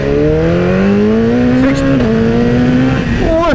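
A BMW S1000RR motorcycle accelerates hard in second gear on a night ride, its loud, close engine whine climbing steadily in pitch, with a rider talking over it.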